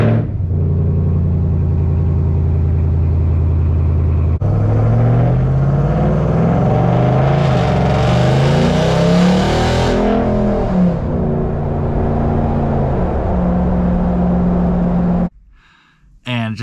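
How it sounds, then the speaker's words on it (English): Stock exhaust of a Ram TRX pickup truck, a loud, steady engine rumble with a rising rev in the middle, close by and continuous before cutting off near the end; speech-like sound appears alongside. "the sound of the badass stock exhaust that comes on with it already"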